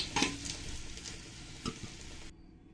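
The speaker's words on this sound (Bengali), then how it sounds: "আলুগুলো আমার ভালো করে লাল লাল করে ভাজা হয়ে গেছে। এবার আমি আলুগুলো তুলে নেব।" Potatoes that have turned deep red in hot oil sizzle steadily while being lifted out of the pan, with a few stirring scrapes and soft clinks. The frying sound then cuts off abruptly.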